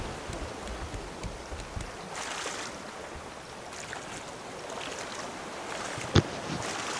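Soft splashing water and gentle wind in a steady wash as a raft is paddled in a video game, with one brief knock near the end; no talking.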